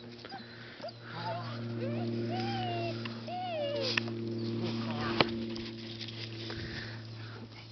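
Newborn puppies whimper and squeak in repeated thin, rising cries close by, with sniffing and shuffling over a steady background hum while people talk nearby.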